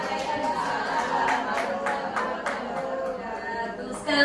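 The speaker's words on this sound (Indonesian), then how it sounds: "Sekali lagi beri tepuk tangan untuk Bu Rofi" Audience applause in a school hall after a teacher's presentation on positive school culture, a steady wash of scattered claps with faint chatter, continuing over the whole stretch before a louder burst at the end.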